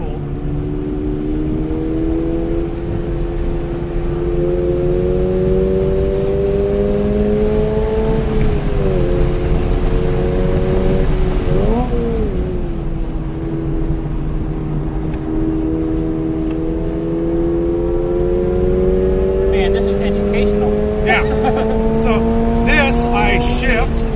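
Race car on a track (ECR, counterclockwise) pulling hard under full throttle from the driver's seat, engine tone climbing steadily through the gears with a brief dip at a shift, loud and continuous; someone talks over it.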